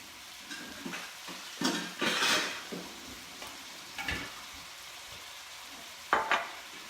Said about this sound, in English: Give this a nice little mix as we cook up our burger